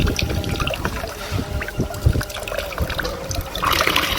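Fresh water runs into a saline tilapia pond system, a close, continuous gurgling flow with trickles and splashes throughout.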